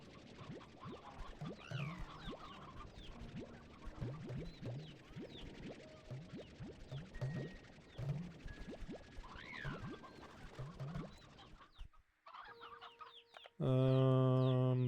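Chickens in the video game Slime Rancher 2 cluck and scratch in a busy, irregular chatter at moderate loudness for about twelve seconds, followed by a brief pause and then a loud electronic tone burst.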